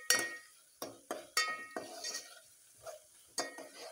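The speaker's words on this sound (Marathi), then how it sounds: "छान आपल्याला परतून घ्यायचं तेलामध्ये हे मसाला" A spoon stirs chicken masala frying in oil in a pan, giving intermittent scrapes and metallic clinks against the pan over a faint background sizzle.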